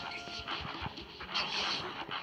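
A dog in the WildCraft video game whimpers and pants in quick, close, breathy bursts, with someone talking over it.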